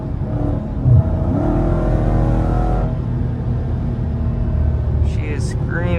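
A Dodge Challenger Scat Pack 392 V8 roars close by during a late-night drive, rising in a loud rev for a few seconds before settling into a steady droning rumble, with a brief voice near the end.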